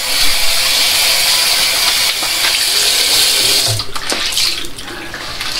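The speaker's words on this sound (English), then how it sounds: "I'm gonna wash the head one more time" Water runs steadily while a freshly shaved head is rinsed, a loud continuous splashing hiss that briefly breaks up and dribbles toward the end.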